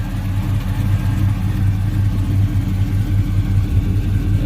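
A supercharged LT4 V8 swapped into a 1970 Oldsmobile Cutlass with an 8L90E automatic rumbles loudly up close, its deep, lumpy engine note pulsing steadily throughout with no talking.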